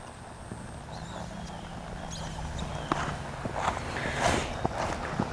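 Horse hooves loping at a steady three-beat rhythm during a riding lesson working on lead changes, moderately close with arena ambience and occasional louder footfalls.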